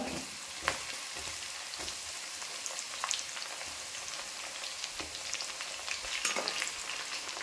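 Ginger and garlic sizzle steadily in hot sesame oil for a tomato pickle, a dense close frying crackle with occasional sharper pops and stirring scrapes, no voices.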